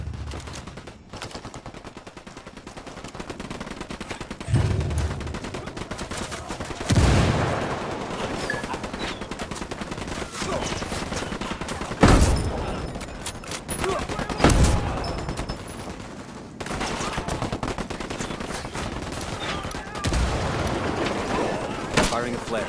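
Gunfire in Ghost Recon Wildlands during a firefight with Unidad forces: dense bursts of automatic fire and heavy booming shots fill the scene, near and loud, with voices talking over the shooting.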